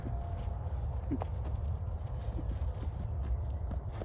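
A young, ranch-raised horse's hooves thud softly in a slow walking rhythm over a steady low rumble of outdoor background noise.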